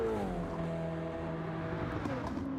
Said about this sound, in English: that RX, just that rotary engine just wail